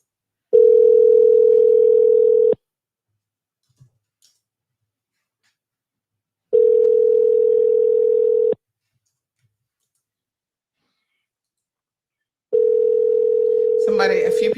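A telephone ringback sounds as a call goes unanswered: three steady, loud two-second tones, each followed by about four seconds of silence, with a faint click between them and a voice starting up at the very end.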